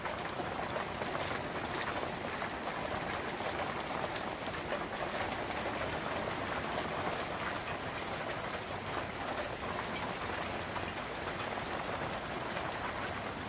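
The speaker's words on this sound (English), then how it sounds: "We've got some amazing rain and thunderstorm going on right now." Heavy rain falls steadily during a summer thunderstorm, a dense, even hiss of drops on surfaces that continues unbroken and fairly loud for the whole stretch, with no voices.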